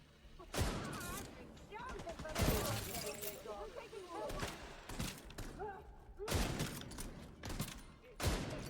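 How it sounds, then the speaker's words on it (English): Sniper rifle fire in the video game The Division 2: sharp, punchy shots ring out at irregular intervals, mixed with game effects while voices talk over the action. "Did we just shoot him through his helmet?"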